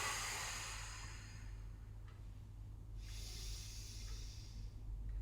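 A slow, steady exhale blown out during a belly-breathing exercise, heard as a close, soft breathy hiss that fades over a few seconds, with a low hum steady underneath.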